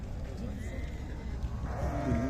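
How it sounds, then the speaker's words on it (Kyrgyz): Lambs bleat at the Sokuluk livestock market, a few calls rising near the end over a busy background of people talking. "Мынакта козулар бар экен"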